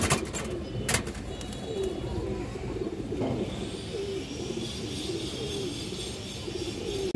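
Giribaz pigeons coo at close range in soft, repeated throaty phrases over steady background noise, and a couple of sharp clicks are heard near the start.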